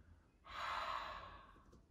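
An audible open-mouth Ujjayi breath from a yoga class, a soft rushing ocean-like exhale through a narrowed throat, rising smoothly, holding, then tapering off, close and without talk.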